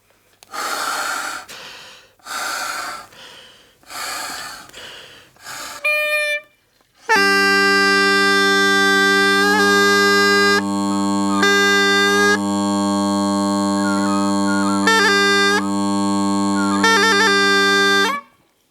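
Bagpipes start with a few breathy puffs, then a loud sustained drone and chanter melody that repeatedly stutters and cuts out, with wavering, faltering notes.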